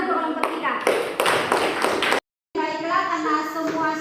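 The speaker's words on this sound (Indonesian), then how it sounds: "Tepuk tangan untuk kelompok 3" A classroom of students applauds a group's presentation, a burst of fast, dense clapping that stops abruptly, then after a brief gap resumes with a voice talking over it.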